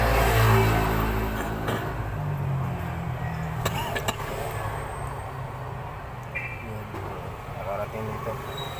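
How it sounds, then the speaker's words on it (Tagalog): Dense road traffic of cars and motorcycles passes on a congested street with a crowded bike lane, with engine rumble strongest at the start and then a continuous hum with occasional clicks and revving. "Grabe ito mga sasakyan."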